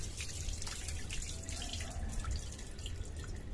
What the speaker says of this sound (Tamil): இந்த மாதிரி கழுவி தண்ணியில கீழே ஊத்திடலாம்